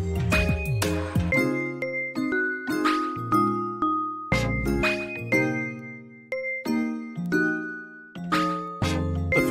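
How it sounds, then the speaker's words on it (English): Bright bell-like chimes and tinkling tones in a dreamy rhythm-game sequence, meant as a phone asking for a charger, repeating in melodic bursts of descending and rising notes with sustained ringing tails. "Phone is asking for a charger."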